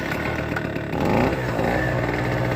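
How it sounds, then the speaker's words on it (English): A small Pulsar two-stroke generator runs with a buzzy, pulsing drone close by, and its pitch steps up as it settles into running. "we have a couple of these little tiny generators, and they're really cool. They're 2-stroke generators."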